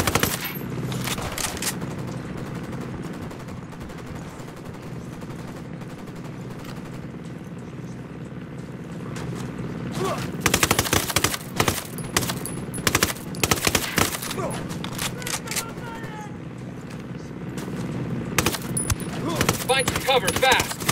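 A turret machine gun fires in a Ghost Recon Wildlands firefight. Dense volleys hammer out in loud, close bursts, heaviest in the second half. A helicopter-like engine drone runs underneath.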